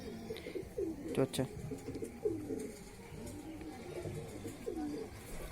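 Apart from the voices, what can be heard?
pigeon cooing near the loft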